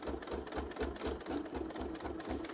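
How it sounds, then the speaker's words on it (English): A sewing machine runs a short back stitch over a bag seam, its needle thumping in a steady fast rhythm, close and fairly quiet, with no talking. "I'm going to go back stitch a little bit over that seam"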